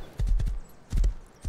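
Horse hooves clip-clop in two quick bursts of heavy, close thuds in the Rust video game, each a rapid cluster of three or four steps separated by a short pause.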